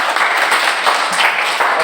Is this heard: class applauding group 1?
yes